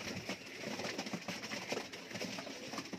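Sialkoti pigeons coo continuously at close range, their soft, throaty calls overlapping over a dense, rustling background with no voices.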